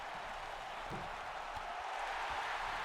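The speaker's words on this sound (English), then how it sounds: "But Kanye, they're cheering him wildly" Wrestling crowd cheering for Kanye West at a live match, a steady wash of broad crowd noise with a few louder whoops, distant and fairly even throughout.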